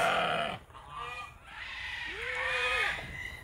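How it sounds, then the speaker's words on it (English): Twin baby goats on a farm bleat in short, wavering cries, several calls in a row at close range, with faint farmyard noise behind. "There's our little twin baby goats."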